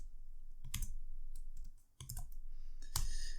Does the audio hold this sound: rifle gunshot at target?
no